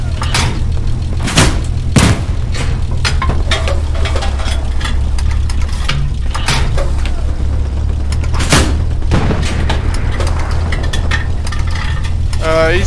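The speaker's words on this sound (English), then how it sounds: "That's a heavy tank." A heavy tank in Hell Let Loose rumbles with a steady low engine drone throughout, punctuated by loud booming shots and clanks, with players talking over it.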